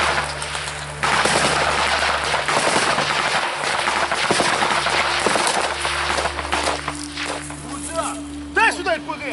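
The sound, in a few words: gunfire in war combat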